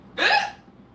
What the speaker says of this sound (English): Excuse my hiccups and burps.